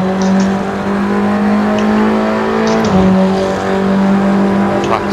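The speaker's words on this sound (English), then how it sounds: "Cold tires, locking up." Race car engine drones steadily at close range in Assetto Corsa during a VR TCR round at Watkins Glen, with brief high squeals as cold tires lock up under braking around the third second.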